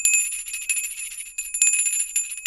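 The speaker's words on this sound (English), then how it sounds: "That's the official bell ringer's bell." A small handbell, the official bell ringer's bell, jingles and tinkles continuously in bright, high, shimmering tones with fluttering, uneven strokes, close and fairly loud, with no talk over it.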